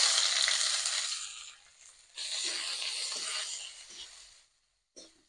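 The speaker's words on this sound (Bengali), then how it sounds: "পেঁয়াজটা একটু ভেজে নিলাম" Chopped onion sizzles in a pan for a Bengali fish curry, a steady close frying hiss that fades out partway, returns, then drops to near silence with one brief final burst.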